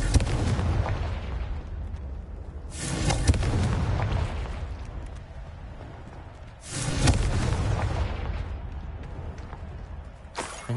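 Two heavy blasts from the Confringo fire spell in a wizarding video game, each a loud, booming burst followed by a rumbling decay, spaced about four seconds apart over a low background rumble.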